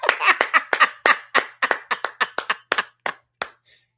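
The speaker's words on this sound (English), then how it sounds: "Give a hand clap of praise for my mods" Hand clapping from one person during a livestream celebration, about fourteen crisp claps in an uneven burst, close and loud, with no talk over them.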